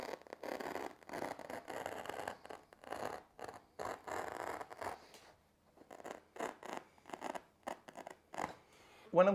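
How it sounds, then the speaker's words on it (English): Repeated snips of scissors slicing through carpet for stairs, a series of close, crisp cuts in uneven bursts with short pauses between. "you can just use your scissors."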